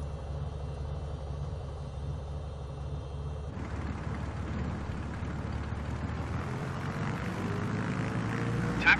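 A simulated Beechcraft Bonanza propeller aircraft taxiing to general aviation parking in Microsoft Flight Simulator, with a steady engine and propeller drone that shifts in tone partway through and keeps a constant loudness throughout.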